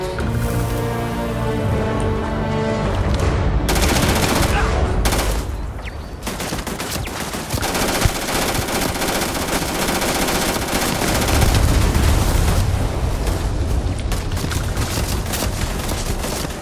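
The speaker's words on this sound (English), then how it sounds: "Who's shooting at me?" Sustained automatic gunfire from a firefight in the sci-fi game Starfield, loud and dense with rapid bursts, a couple of sharp booming gaps early on, then continuous rattling fire throughout.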